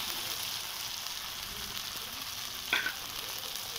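Pre-fried potatoes sizzling in a pan with fried spices as they are stirred together, a constant hiss of frying with a brief scrape of the utensil near the end, no speech.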